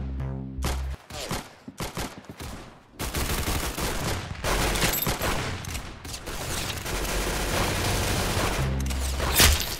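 Rapid bursts of gunfire from a Roblox shooter game on PC, with dense fusillades and sharp repeated shots that fill most of the stretch, loud and close, with brief gaps between volleys.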